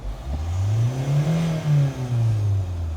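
A Kia Sportage 3 diesel engine revs up and down in low, rumbling surges with a faint turbocharger whistling whine over it, close and fairly loud.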